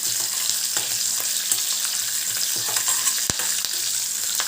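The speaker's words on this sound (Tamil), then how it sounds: "4 பல் சேர்த்து அதையும் நல்லா வதக்கிக்கலாம்." Chopped garlic sautéing in a pan for dried fish thokku: a continuous bright sizzle with periodic scraping stirs and a sharp utensil knock, close and loud with no talk.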